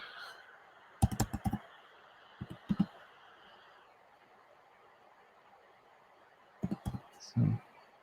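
Keys on a computer keyboard click in two short bursts of typing, a handful of quick taps each, fairly close over a quiet room hum.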